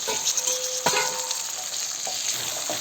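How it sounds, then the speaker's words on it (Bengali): Potatoes tipped into hot oil fry with a steady, close sizzling hiss, and a short clatter of stirring or tumbling lands near the start before the crackle settles into a continuous fry. "আলুগুলো ঢেলে দিলাম"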